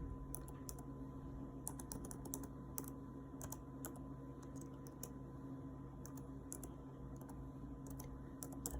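Someone types on a computer keyboard while searching a library database, producing quick irregular bursts of light key clicks over a steady room hum with no speech.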